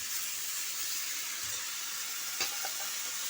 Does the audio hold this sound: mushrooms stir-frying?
yes